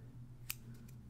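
Scissors make a single sharp snip while cutting a notch in material during fly tying, a quiet close click over a low background hum.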